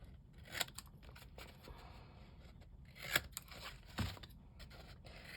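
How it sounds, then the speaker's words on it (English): Quiet scissor snips while trimming Easter basket material to an even length, a few soft, close cuts scattered among faint rustling and scraping. "We're just going to cut these down even, or as close to even."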